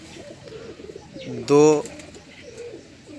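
Pigeons coo softly around someone speaking Hindi, and a louder, brighter bird call stands out briefly in the middle under the talk.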